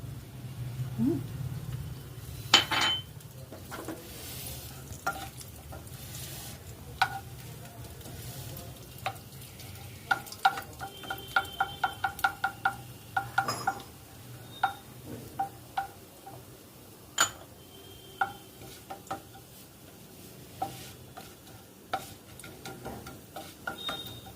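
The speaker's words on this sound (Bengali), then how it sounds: "গরম তেলে একটা শুকনো লঙ্কা, দারচিনি, ছোটো এলাচ, লবঙ্গ আর কিছুটা জিরে ফোড়ন দিয়ে দিলাম" Whole dry red chilli, cinnamon, green cardamom, cloves and cumin seeds hit hot oil, giving a steady low sizzle with a run of sharp popping crackles and a few spoon scrapes against the pan.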